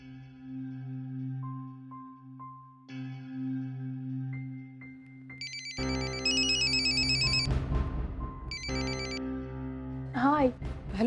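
A telephone rings repeatedly with a bright electronic ringtone over background music, and a voice briefly speaks near the end.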